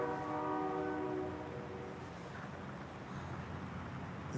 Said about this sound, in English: I think the train horn probably synced with this car pulling up